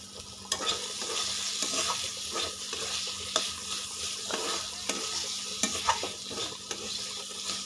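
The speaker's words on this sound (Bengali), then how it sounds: "এরকমভাবে ভেজে নিতে হবে তেলে" Pumpkin peel paste fries in hot oil with a small pinch of sugar added, a steady close sizzle broken by repeated scraping strokes of a spatula stirring the pan, with no voices.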